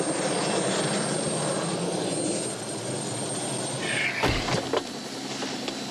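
A helicopter flies nearby, its engine and rotors making a steady, loud broadband roar throughout, with a brief sharp clunk and whine near the end.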